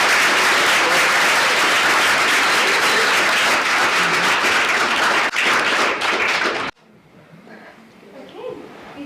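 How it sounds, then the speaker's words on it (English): An audience at a We The People event at Williston Northampton School applauds a student group, with dense, loud clapping that holds for about six seconds and then cuts off abruptly into a quiet room with faint murmuring. "Can we give this group a round of applause?"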